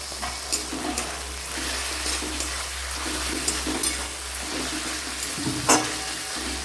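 Chopped tomato and onion frying with meat and green chillies in a pan, a steady broadband sizzle throughout with occasional stirring scrapes and a sharper crackle burst near the end.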